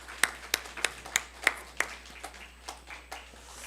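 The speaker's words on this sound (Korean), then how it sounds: "우리 신앙생활 잘하고 교회생활 잘하도록 한번 박수로 격려해 주시면 감사합니다." A church congregation at a Sunday service claps together with hands, in a steady run of about a dozen sharp claps that start crisp and close and then fade into softer, scattered applause.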